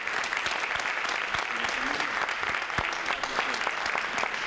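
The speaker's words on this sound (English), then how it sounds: "So a big round of applause for both of you." Audience at an Orange County, NY regular county session applauding two state champions, a crowd of clapping hands with distinct individual claps, steady and moderately loud, with voices mixed in underneath.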